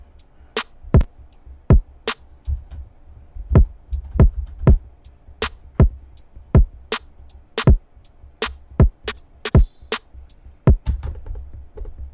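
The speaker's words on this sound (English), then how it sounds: "Scratcher will just scratch completely." A scratcher effect performed on a sample inside a DAW, producing a rapid series of sharp, loud percussive chops and scratch bursts in an irregular stuttering rhythm, with no talking.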